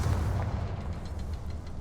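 A Confringo fire-blast spell in Hogwarts Legacy lets out a deep, rumbling explosive boom that rolls steadily through the whole moment, loud and close, with no voices over it.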